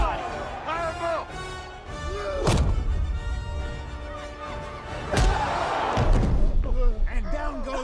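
Body punches land in a boxing movie fight between Creed and Drago, two heavy thuds rising out of a constant background of talking and crowd noise.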